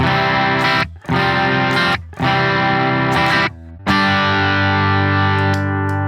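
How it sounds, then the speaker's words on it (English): Electric guitar through a Light Speed overdrive pedal plays a few gritty, sustained chords with brief gaps between them, the final chord ringing out longest, loud and up close. "So running into the light speed is going to be my go-to overdrive."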